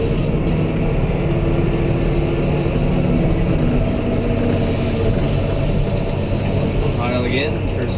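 Cat 988H wheel loader engine idling and rumbling steadily in first gear with throttle locked near 1900 RPM while feeding a conveyor belt, a continuous loud machine drone with a voice talking over it.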